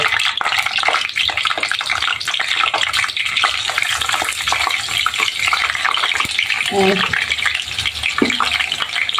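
Onion paste frying in oil with bay leaf, cinnamon and cardamom for spiced goat head curry: a dense, loud, close sizzle with stirring scrapes, and brief voices at moments.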